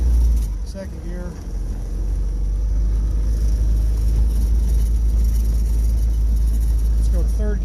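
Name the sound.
car engine accelerating while shifting gears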